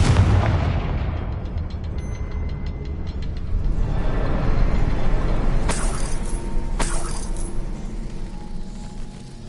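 Explosive Confringo spell cast in the Hogwarts Legacy video game, a loud, blasting burst with rumbling impacts and a couple of sharp cracks near the end, over a continuous game soundscape.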